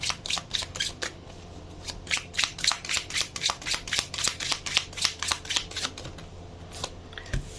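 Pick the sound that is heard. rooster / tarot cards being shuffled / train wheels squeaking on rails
tarot cards being shuffled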